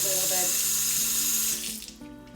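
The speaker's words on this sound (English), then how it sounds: "to clean your frother, you simply run it under water" A milk frother is rinsed under a running kitchen tap, a steady close rush of water that thins and breaks up near the end as the flow is interrupted.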